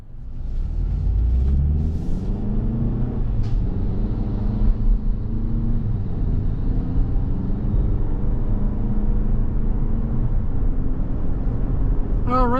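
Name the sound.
2024 Toyota RAV4 XLE AWD driving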